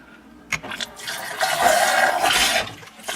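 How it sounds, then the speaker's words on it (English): Tap water is being run through a refrigerator water filter, an MPF16025 cartridge for a Samsung or Kenmore fridge. It makes a steady rushing, hissing flow that swells after a brief start and runs on continuously. "So I'm gonna just start running some water through."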